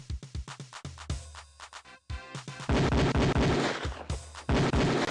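Beretta pistol fired at a police firing range in the game Police Quest 4: a close, loud string of sharp shots in quick succession, then denser, heavier bursts of gunfire near the end.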